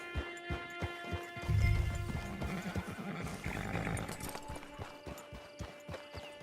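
In the Red Dead Online video game, a horse whinnies loudly and close, then its hooves clip-clop in an even rhythm over a soft ambient backdrop.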